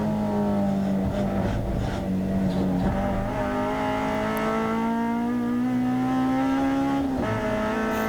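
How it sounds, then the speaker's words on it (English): Race car at a Castle Combe hot hatch race, with bent brake cooling ducts scraping along the ground beneath it, heard inside the car as a continuous loud engine drone with a rising tone and faint metallic grinding underneath. "it bent my brake ducts right down underneath the car, and you'll hear in a second they scrape along the floor."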